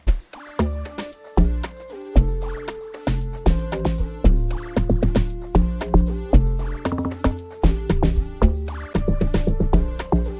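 A plucky synthesizer lead from the Diva synth plays a bouncy, staccato melody over punchy bass notes in a steady Afrobeat rhythm, loud and up front.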